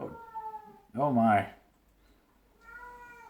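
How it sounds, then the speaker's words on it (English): Cat meowing in a kitchen while egg white crystals are prepared, three drawn-out meows, the middle one loudest and rising, heard between and around a brief spoken remark. "You can hear the cat in the background."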